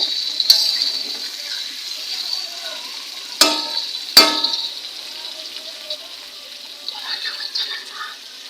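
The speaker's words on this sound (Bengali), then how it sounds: "এখন আলু ভাজা হচ্ছে কিছুক্ষণ খোলায় থাক" Potatoes fry in oil in a pan for a mutton curry, a soft steady hiss broken by a few sharp metallic clangs as a utensil strikes the pan while stirring, with quieter scraping near the end.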